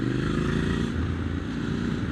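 A Triumph Scrambler 1200 XC with an Arrow exhaust idles close by, a steady, loud, rumbling engine note held without change for about two seconds, with no voices.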